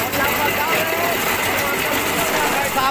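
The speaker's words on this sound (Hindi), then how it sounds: "आप देख सकते हैं पटुआ का मैसिन जो ये पटुआ इसको पानी में भिगो कर बनाते हैं" A tractor-powered jute stripping machine runs steadily with a dense, continuous mechanical drone and rattling churn, loud and close throughout with no break in the noise.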